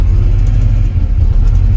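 A 1967 Austin Cooper S engine rumbles loud and close as the car creeps forward, a steady low idle-like drone with slight fluctuations throughout.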